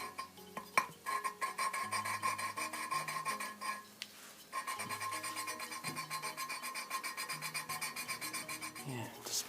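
A Honda VF750F valve is lapped against its seat with fine grinding compound, giving a faint, steady, rhythmic gritty rasp of back-and-forth rubbing. Brief clinks and a short pause break the strokes partway through.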